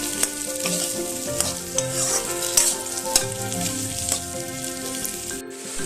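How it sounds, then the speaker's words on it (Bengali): A spoon stirs fried figs and potatoes with ginger in a sizzling pan, giving repeated scraping clicks over a constant, fairly quiet frying hiss, with no speech. "দিয়ে আদার সাথে ভালো করে মেশাবো, আর কিছুক্ষণ আমি নাড়বো"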